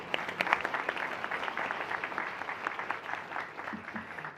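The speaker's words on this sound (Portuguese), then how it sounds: "Ahora voy a pedir un fuerte aplauso para Itana también, sí." Conference audience at an open innovation and entrepreneurship event in Brazil breaks into applause, a dense spread of many hands clapping at moderate volume, steady for several seconds before thinning slightly toward the end.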